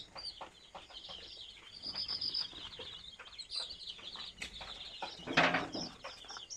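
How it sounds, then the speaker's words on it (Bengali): Desi chickens cluck and chirp inside a vehicle, with soft repeated calls and scattered peeps at close range, including one brief louder burst near the end. "মুরগি গাড়ির ভিতরে আরো গরম"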